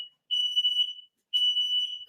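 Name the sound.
home smoke alarms going off at night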